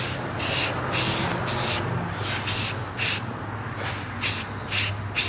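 Light coat of spray paint going onto a Nissan 240SX body, heard as repeated short hissing bursts with brief gaps between passes, close and steady over a low background rumble.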